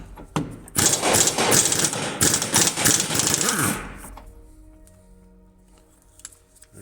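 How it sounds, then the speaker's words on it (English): An impact wrench rattles loose a nut on the sway bar of a 1993 Saturn SL2, a loud buzzing burst of about three seconds that stops, then a quiet garage with faint clinks. "I'm gonna go ahead and take this nut out"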